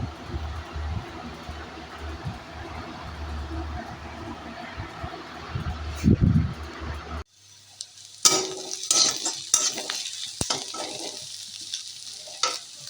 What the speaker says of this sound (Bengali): ভাজা ভাজা করে পেঁয়াজ ভেজে নিয়েছে, নিয়ে মাংসগুলো দিয়ে দিলাম